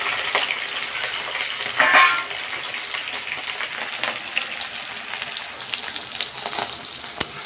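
Onion fries lightly in oil with bay leaf, cardamom, cinnamon and cloves, a close, steady sizzle with a brief louder burst and faint stirring clicks, no talk.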